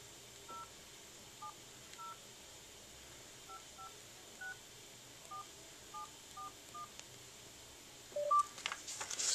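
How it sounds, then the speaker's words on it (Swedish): A telephone call is dialed, producing a sequence of about a dozen short, clear keypad tones in quick, uneven rhythm, fairly faint, followed by a brief higher tone and rising line noise at the end. "Nu ringer Johan Malmqvist då"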